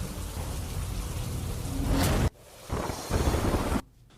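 Heavy monsoon rain pours down on a fairground in Rajkot, a loud, steady hiss of downpour that cuts abruptly between stretches, with no voices.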